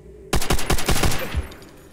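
Rapid pistol fire in the video game World at War: about six sharp, loud shots in quick succession, evenly spaced, ending with a final shot and a brief fading tail, with no talking.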